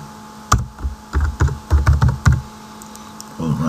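Keys clack on a computer keyboard in a quick burst of about eight close, distinct strokes, followed by a brief quiet stretch.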